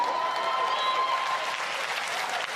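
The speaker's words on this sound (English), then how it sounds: "You can clap, it's the truth." Brief burst of audience applause at a political talk, a steady patter of many hands clapping at moderate volume with a faint voice and tone in the background, holding even throughout.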